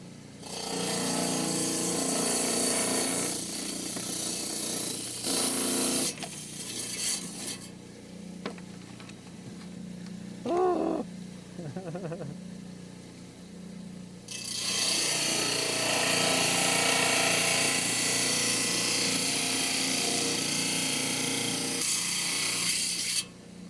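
Rock saw cutting through an agatized coral geode, a steady loud grinding rasp running near-continuously with a brief drop in the middle before resuming at full strength.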